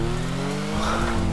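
A car in the GTA RP video game, set in an online Rio de Janeiro favela roleplay server, ramps up its engine and tires squeal as it runs a player over, loud and close.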